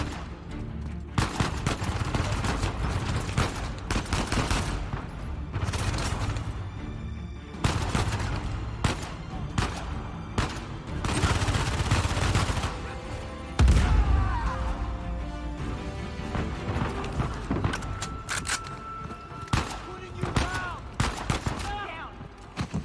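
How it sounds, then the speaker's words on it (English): Gunfire rings out in Uncharted 4, with repeated loud sniper shots and bursts of rapid fire cracking in clusters, near and harsh, over a dense game mix of crashes and booms. "Sniper shot him."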